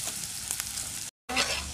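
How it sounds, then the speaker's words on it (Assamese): Onions sizzling in butter as they fry to golden, a close, steady crackling hiss with light stirring, cut off by a brief moment of silence before resuming. "এয়া চাওকচোন, মই পিঁয়াজখিনি গোল্ডেন হোৱালৈকে, গোল্ডেন কালাৰ হোৱালৈকে ভাজিলোঁ।"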